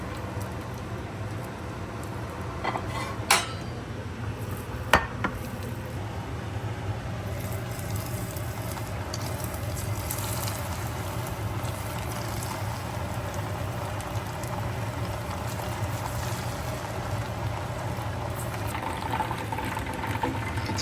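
Chicken pakoda pieces frying in hot oil give a steady, even bubbling sizzle throughout, with a few faint clinks of a utensil and no voices.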